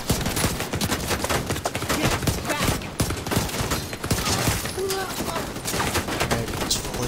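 Rapid assault rifle fire in the shooter game The Division 2, dense overlapping bursts of gunshots and impacts throughout, with a voice occasionally talking beneath the shooting.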